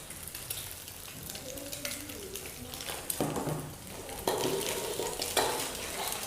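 Garlic tossed into a pan of frying egg for nasi goreng sizzles steadily, with stirring scrapes and clatters that grow louder in the second half, close and continuous without talk.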